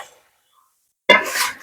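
After a near-silent pause, a metal lid comes off a cooking pot of simmering meat curry with one sharp, close metallic clink and a brief clatter.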